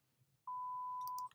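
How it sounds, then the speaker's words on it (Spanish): Alarm beep sound effect: a single clean, loud electronic tone held for under a second, then a few short clicky blips as it cuts off. "Alarmas, beeps."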